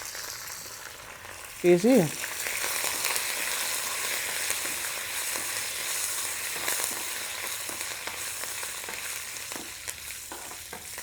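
Curry leaves, asafoetida and dried red chillies crackle and sizzle in hot tempering oil for Nellore-style pappu pulusu, a steady loud frying hiss throughout with a single brief spoken word near the start.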